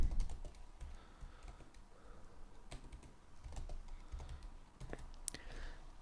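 Close keystrokes on a computer keyboard as C# code is typed, a quiet, irregular patter of clicks in short bursts with brief pauses between.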